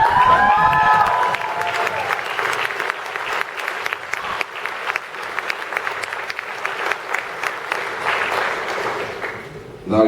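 Audience applause fills an awards ceremony hall, dense steady clapping from a sizeable crowd that stays loud throughout, with a brief tonal sound near the start.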